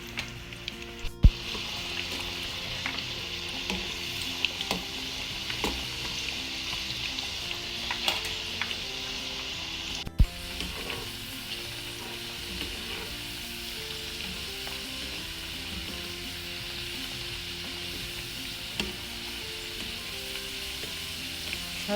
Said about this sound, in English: Next, we're going to fry the